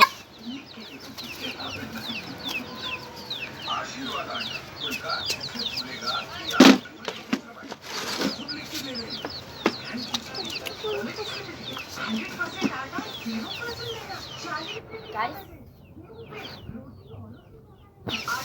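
Chickens and chicks at feeding time, a busy flock clucking and cheeping throughout with a few sharp knocks, fairly quiet and close, while a person talks at times over them.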